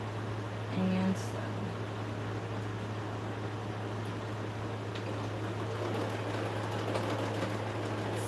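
A sewing machine joins fabric strips for a Christmas quilt project, giving a steady low mechanical hum with a constant droning tone and faint whirring, close and continuous, with no talking during the run.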